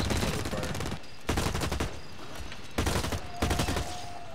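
Rapid bursts of automatic gunfire from the first-person shooter video game Blacklight: Retribution, loud and dense, with several sustained volleys separated by brief lulls, the shots coming fast like a machine gun.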